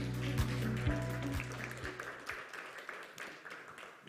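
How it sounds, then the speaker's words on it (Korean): Audience applause at a startup demo day welcomes a company CEO to the stage. A sustained tone fades out as scattered clapping builds into a moderate, steady round of applause. "큰 박수로 맞이해 주시기 바랍니다."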